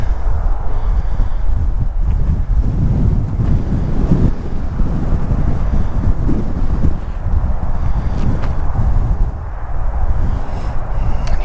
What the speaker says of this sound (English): Boy, is it windy though.